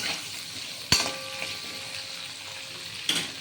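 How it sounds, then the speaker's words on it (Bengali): Potatoes frying in a pan for a drumstick and mustard chorchori, with a soft, steady sizzle and two sharp metallic knocks of a utensil against the pan, close and without speech. "এই আলুগুলো এবার লাল করে ভাজা হবে"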